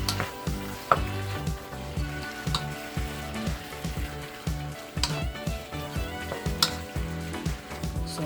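Igado sizzles in a frying pan as it is stirred, giving a continuous close crackle of hot oil broken by rhythmic scraping and clinking strokes of a utensil, with no voices.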